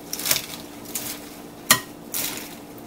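A spoon or spatula scrapes and knocks against a pot while cooked quinoa is stirred. The strokes come in a few separate bursts, with one sharper clink near the middle. No voices.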